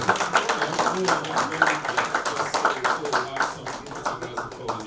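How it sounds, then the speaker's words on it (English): Audience applauding panelists at a critical national information infrastructure side event, a dense patter of many hands clapping steadily throughout with speech faintly mixed underneath. "In the round of applause, thank you."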